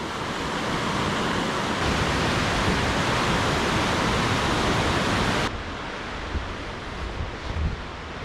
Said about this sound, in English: River flowing majestically.